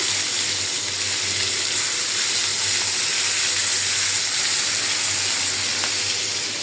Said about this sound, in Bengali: আগে মাছগুলো ভাজা রাখি